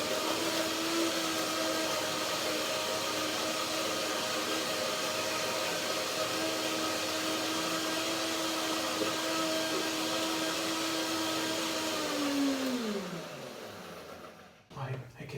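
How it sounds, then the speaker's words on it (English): A blender whirs steadily at close range with a droning motor tone, blending a walnut banana cream, then spins down and cuts off near the end. "Blender it in."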